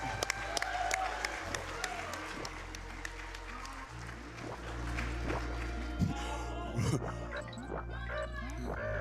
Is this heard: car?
no